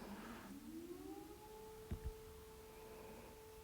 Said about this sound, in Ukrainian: Так, включилась повітряна тривога.